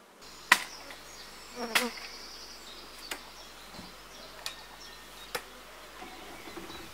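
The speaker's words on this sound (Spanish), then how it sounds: "estoy viendo aquí un colmenar con más de 50 cajas de abejas" Honey bees at an apiary with more than 50 hives being smoked give a faint, steady buzz, broken by a few sharp clicks and knocks scattered through the clip.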